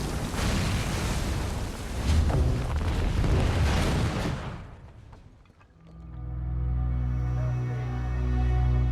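A large explosion on a film set roars and rumbles for several seconds before dying away, then a low droning sound takes over.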